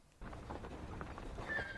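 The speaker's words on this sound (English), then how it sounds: "A nearby horse pulling a carriage kicked its front legs high in the air." A carriage horse in a video game clops its hooves steadily and gives a short whinny near the end, fairly close and moderately loud, with no talking.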